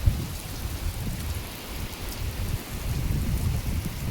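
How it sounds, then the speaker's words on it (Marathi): Heavy monsoon rain pours down continuously, a dense, close hiss of drops hitting surfaces with no voices. "असा पाऊस आहे."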